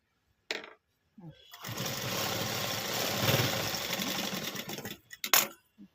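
Sewing machine stitching a hem on cloth, a steady rapid mechanical whirr running for about three and a half seconds, bracketed by short clicks and handling noises.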